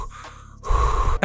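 A person imitates heavy breathing into a microphone: a soft breath, then a loud, rough exhale close to the mic, ending in a sharp gasping intake.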